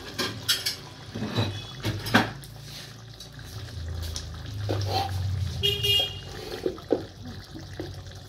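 Bhola fish curry is plated, with scattered clinks and knocks of dishes and cutlery, some pouring and sloshing, over a low background rumble.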